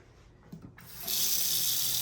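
Water gushing from a bathroom sink faucet in a double-sink vanity, beginning after a few soft knocks and a handle turn, then a steady, close, bright rush of flowing water.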